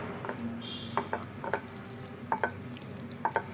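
Tomato chutney sizzles softly in a pan after mustard oil is poured in, with a steady frying hiss under irregular clicks and taps of stirring against the pan.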